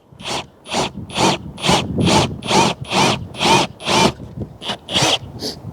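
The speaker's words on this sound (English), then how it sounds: "This is the part I hate, drilling into my roof." A power drill runs in about a dozen short, evenly spaced bursts into the curved roof of a Cougar fifth-wheel RV, loud and close, with a harsh grinding whir in each pulse.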